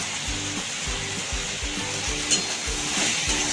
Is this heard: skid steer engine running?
no